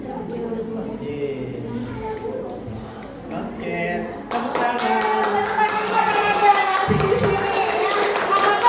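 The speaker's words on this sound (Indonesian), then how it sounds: "Oke, tepuk tangan." Audience at a primary school orientation event at SD Baptist Manggar breaking into quick, crisp hand clapping partway through, after a voice talks; the clapping then continues steadily and fairly loud.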